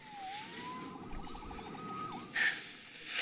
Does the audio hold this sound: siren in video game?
yes